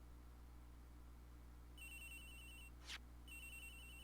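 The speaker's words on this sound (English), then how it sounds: "It's ringing from somewhere, sir." A cell phone rings in the video game Ace Attorney Investigations, two bursts of electronic ringtone separated by a short gap and a quick sweep, over a low steady hum with no talking.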